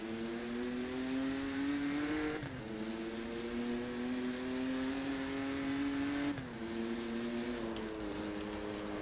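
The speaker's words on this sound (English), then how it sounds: "There you go, a bit of engine noise." A BMW M2 engine drones steadily in the Rennsport racing game at Monza, holding a strong pitch with two quick gear-change dips before climbing again, loud and continuous with no talking.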